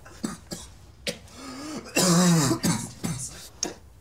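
A sick man coughs up blood, clearing his throat repeatedly in short harsh bursts, with one longer strained, rasping cough in the middle, close by.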